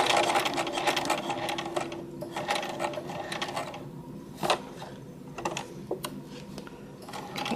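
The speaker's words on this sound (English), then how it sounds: "All of my corners need to be pivoted, or else when I cut the corners off, my stitches will cut off." A sewing machine stitches the front and back pieces of a garment together, its close rapid mechanical chatter running in bursts with short pauses and clicks between runs as corners are pivoted.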